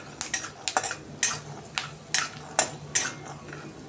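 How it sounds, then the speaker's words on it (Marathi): A metal spatula scrapes and stirs split chickpeas roasting in a wok for curry-leaf chutney, with sharp clinking strokes at a steady, unhurried rhythm, close and fairly quiet, and no speech. "मी या ठिकाणी फुटाण्याची डाळ भाजून घेणार आहे कढईमध्ये"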